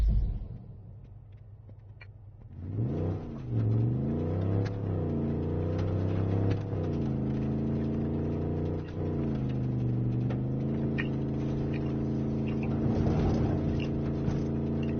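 Car engine in Far Cry 5 droning and revving while driving, pitch rising and falling in several sweeps with a steady rumbling tone, close and continuous, no talk.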